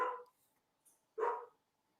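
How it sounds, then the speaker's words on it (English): A dog barks twice in a quiet room during a baseball postgame wrap-up show, one short bark followed by a louder one about a second later, close by and with no talk over them. "Who's barking at us?"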